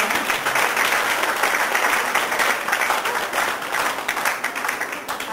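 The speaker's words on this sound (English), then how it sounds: "Please give ma'am a round of applause." An audience at a conference lecture applauds, a dense steady wash of many hands clapping that fills the room and continues throughout.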